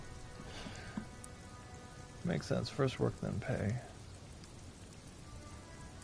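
Rain in the video game Disco Elysium, a soft, steady hiss of falling rain throughout, with a short spoken line of dialogue briefly over it in the middle.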